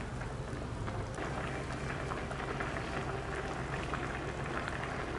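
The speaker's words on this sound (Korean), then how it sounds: "양파와 대파를 넣고 또 끓여줍니다." Braised chicken stew with onion and green onion simmering in a pot, giving a steady, even bubbling hiss with soft popping, close by and moderately quiet, with no voices.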